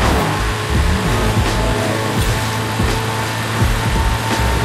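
A car in Forza Horizon 5 accelerating hard in fifth gear near top speed, a loud continuous engine roar with rising tones and faint tire noise, close and unbroken.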